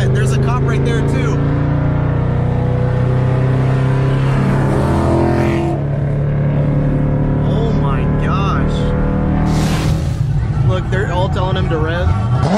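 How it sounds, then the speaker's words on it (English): A street racing car revs its engine loudly and steadily with a dense roar, and a crowd sits in the background. Voices talk over it, and near the end there is a brief high whoosh. "Telling him to rev."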